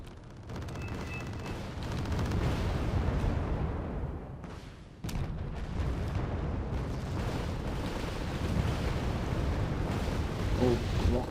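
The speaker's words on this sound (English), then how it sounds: "Oh, rocket artillery from Blufor. What do they have? They have two M270 LRMs." Rocket artillery from M270 MLRS launchers in Wargame Red Dragon, a rolling barrage of booming blasts and crackling bursts, loud and sustained, with a brief lull and then a sharp renewed onset; a faint voice is present.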